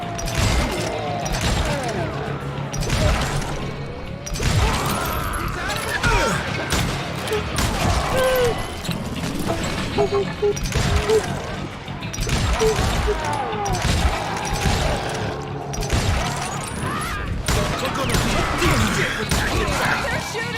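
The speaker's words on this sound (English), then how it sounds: "They're shooting in the street!" Gunfire in the Western shooter game Call of Juarez: Gunslinger: rapid cracks and bursts with clanks and impacts throughout, layered over game effects and voices.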